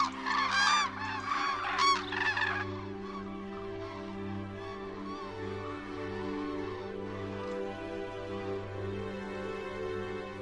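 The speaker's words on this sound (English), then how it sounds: "Hordes of thousands of cranes fly south over the Pyrenees every year to feed on these very nuts." A flock of cranes migrating south over the Pyrenees calls while flying, with loud overlapping honking trumpets at first, then a fainter chorus under a steady low background hum.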